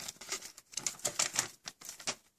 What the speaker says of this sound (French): On va enlever le petit plastique.